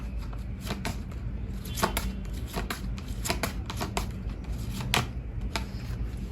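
Tarot cards are shuffled by hand in a quiet room, a run of crisp, rapid riffling flicks and soft slaps, close and steady, with no talking.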